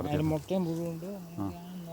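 Bees hum and buzz around a hive in wavering, pitch-shifting drones close by, several insects passing and circling in bursts over a quieter background hum.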